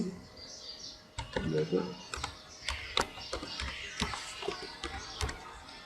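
An email address is typed on a computer keyboard in a quiet room, with faint, irregular keystroke clicks and soft bird chirps in the background.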